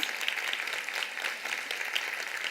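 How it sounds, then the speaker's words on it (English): An audience applauds a speaker's mother at a talk, with dense, sustained clapping filling the whole stretch at an even, moderately loud level, no voices over it. "So everybody please give my mom a round of applause."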